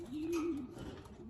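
Racing pigeons coo in a loft, a steady low cooing drone that holds close and continuous through the whole short stretch, with no talk.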